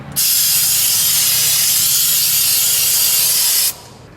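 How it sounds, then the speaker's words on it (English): Brake cleaner sprayed onto the transfer case of a 2004 Toyota 4Runner, one continuous hiss about three and a half seconds long that starts and stops abruptly, loud and close, with no talking. "I'm going to finish with a little brake clean."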